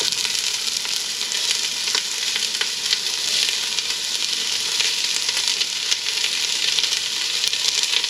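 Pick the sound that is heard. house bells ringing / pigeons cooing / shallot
shallot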